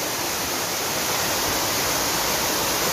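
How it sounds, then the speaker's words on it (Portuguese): A mountain waterfall roars in a steady, dense wash of rushing water, loud and close, with no pauses and no voices over it. "Tem essa cachoeira aqui. Aí acima dela tem outra."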